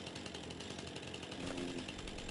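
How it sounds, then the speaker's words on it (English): A chainsaw in the Farming Simulator 25 video game runs continuously, a loud buzzing drone throughout with no pauses or talking. "So I'll switch to my chainsaw,"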